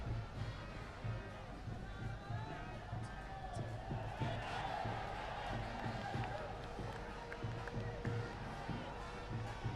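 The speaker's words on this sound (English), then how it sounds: "There is a massive crowd here for both sides." A massive crowd of Blue Star fans fills a football stadium during a Dialog Champions League match against Defenders FC, a dense, steady roar with scattered shouts and claps, heard from a distance under faint commentary.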